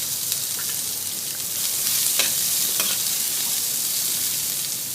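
Chopped onions and sliced green chillies sizzle and fry in a pot for one-pot tomato rice, a steady broadband hiss with a few scraping stirs, close and continuous with no talking.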